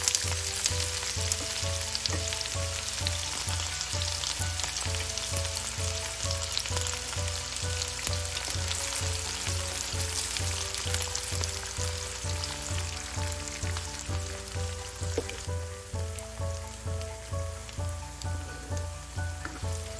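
Onion frying in a pan for a beaten rice and noodle snack, a steady dense sizzle that holds for the whole stretch, with faint rhythmic clinks from a stirring spoon and no voices.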